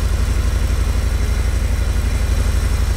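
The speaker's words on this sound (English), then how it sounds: "that's the typical sound of the Milwaukee 8" A Harley-Davidson motorcycle with a Milwaukee 8 engine idles close by in a loud, even, lumpy beat, a deep rhythmic pulse heard on its own.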